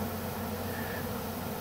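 A swarm of honey bees takes to the air in a bee yard, giving a faint, continuous droning hum with a steady hiss of wings and no voices.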